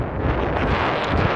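Strong wind sweeps across the open White Sands desert dunes, buffeting the microphone in a loud, constant roar without pause.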